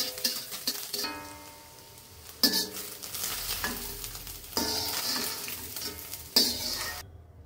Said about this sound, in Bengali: তো আমার ডিম ঝুরি ঝুরি করা হয়ে গেছে। এবার আমি ডিম ভাজিগুলোকে উঠিয়ে নিব।